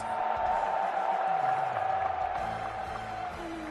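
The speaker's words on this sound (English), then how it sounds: "Koji Coco, Tororo, let me hear that crowd" A large arena crowd at the EVO 2024 fighting game tournament roars and cheers during losers finals, a dense, steady wall of noise that holds loud for the whole stretch.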